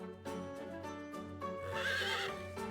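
A horse in the video game Fire Emblem Warriors: Three Hopes neighs in a long, close whinny, with clip-clopping hooves and game music beneath it.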